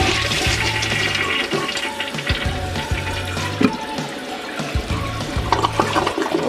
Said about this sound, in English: Give another flush.